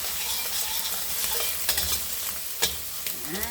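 Garlic and onion sizzle steadily in a pan for fried rice, a dense close crackle with occasional stirring scrapes and clinks, no voices.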